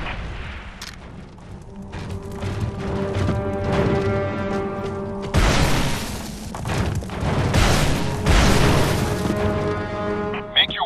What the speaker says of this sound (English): Use a grenade to break into the window I've marked.